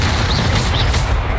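Confringo spell explosion in Hogwarts Legacy, a loud booming burst with a couple of sharp fiery whooshes, close and continuous over about a second and a half.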